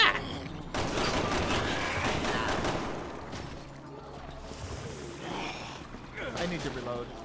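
Rapid gunfire bursts in the video game Resident Evil 6 crackle repeatedly under excited voices and gasps from players talking over the action.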